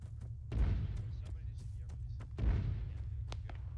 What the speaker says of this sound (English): There's a mortar firing somewhere.